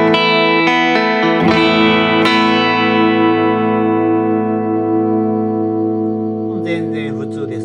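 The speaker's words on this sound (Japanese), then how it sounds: "ギターはね、ストラト、ノイズが出やすいストラトにわざと変えてみました" A Stratocaster electric guitar plays clean chords with no noise gate, each strum ringing out and sustaining as it slowly decays, before a voice starts talking near the end.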